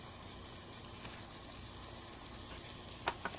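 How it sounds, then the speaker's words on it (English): An empty hot pan waiting for zucchini gives a soft, even sizzle, fairly faint and steady, with a couple of small clicks near the end. "Listen to that sizzle."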